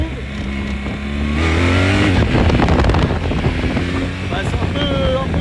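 BMW R 1300 GS Adventure motorcycle pulling away hard in first gear through traffic, a steady loud engine drone rising in pitch with wind rush over the microphone and a voice talking over it.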